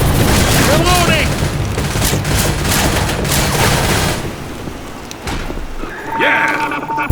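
A heavy explosion and scattered gunfire fill a chaotic Left 4 Dead 2 firefight, loud and dense with crackling debris and bursts of shooting, while voices shout over the din.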